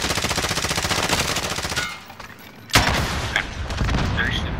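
Rapid automatic gunfire rattles in a Call of Duty: Modern Warfare match, loud and dense, dropping off briefly before a sharp single shot and renewed bursts of firing.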